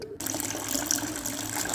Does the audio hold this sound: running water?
yes